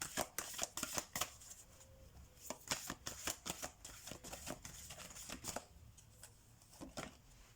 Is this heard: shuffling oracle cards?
yes